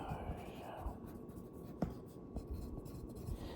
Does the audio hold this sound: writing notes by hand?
yes